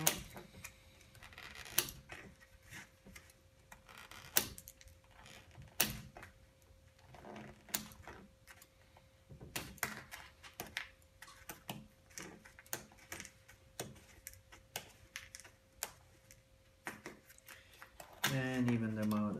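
Sharp clicks and snips from cutting wooden toothpicks flush while assembling a UGears Truck UGM-11 mechanical wooden model, irregular close taps and cracks spread across the clip, with a steady faint hum underneath.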